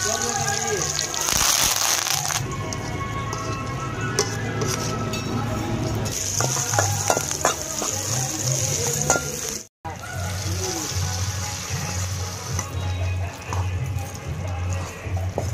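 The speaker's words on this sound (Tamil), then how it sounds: "அதை வந்து நல்லா அந்த எண்ணெயிலே வந்து வதக்கி எடுக்காங்க" Masala with turmeric sautés in hot oil for a festival lunch, a continuous close sizzle and crackle with stirring clatter and a brief gap, while people talk over it.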